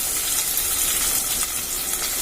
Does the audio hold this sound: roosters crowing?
no